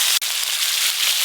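Whole cumin and ground spice paste go into hot oil in a home kitchen pan and set up a loud, even hiss of sizzling. The frying sound stays steady apart from one brief dip, with no talking.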